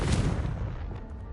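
Confringo spell cast in Hogwarts Legacy, a single loud fiery blast that booms and then trails off into a fading rumble.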